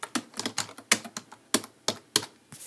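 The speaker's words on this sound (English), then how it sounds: "I'll type some stuff so you can hear what hear what it sounds like." Someone types on a computer keyboard in a PC setup, a quick uneven run of crisp, close key clacks, about a dozen strikes with brief pauses.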